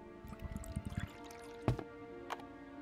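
Water is poured into a container in a detective adventure game, a run of soft gurgling drips and splashes followed by a couple of brief louder clunks, fairly close and heard without talk.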